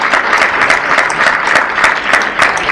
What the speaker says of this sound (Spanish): de una ofrenda de aplausos al Señor, porque Él lo merece